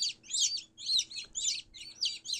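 High, bright peeping of several newly hatched Spanish chicks, repeated in quick overlapping bursts, close by with no talking.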